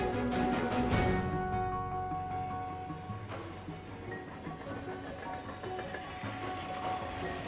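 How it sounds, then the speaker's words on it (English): A freight train hauling iron ore pellets from the Malmfälten mines to the Luleå steelworks rumbles steadily past, with a continuous rolling din of wheels and cars at moderate loudness and no talk. "Iron ore in pellet form comes by train from LKAB in Malmfälten to SSAB in Luleå."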